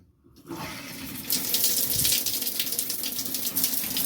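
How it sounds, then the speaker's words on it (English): Warm water from a small shower in a B&B room runs steadily, starting after a short silence and swelling into a loud, continuous hiss of spray that keeps going close by. "I'm going to demonstrate this little shower up here"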